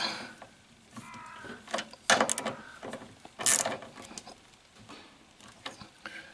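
Tightening the two outer parts of a bicycle crankset with 13 mm wrenches, a few close metallic ratcheting clicks and clanks in two main bursts, with softer tool handling between them and no talk.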